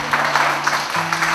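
Parents at a children's martial arts board-breaking event cheer and applaud from a distance, a steady wash of clapping and raised voices with no single voice standing out.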